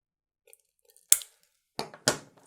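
Scissors snipping through Ethernet cable wires, with a few crisp, close cuts separated by short quiet gaps and faint clicks in between.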